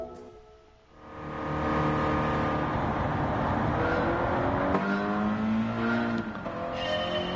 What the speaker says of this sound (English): So the Subaru BRZ.